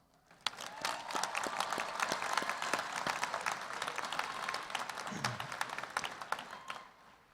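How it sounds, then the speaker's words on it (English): Commencement audience applauding the faculty at a university graduation ceremony in a large hall, a dense, sustained wash of many hands clapping that swells quickly and holds steady for several seconds before fading. "please join me in honoring our world-class faculty with your applause"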